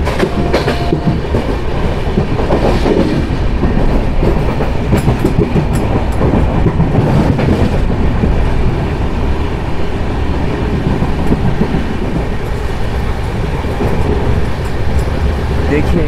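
Janshatabdi express train no. 12079 running from Bangalore to Tumkur, a loud, constant rumble of the moving coach with rhythmic wheel clatter on the rails heard from inside, steady throughout.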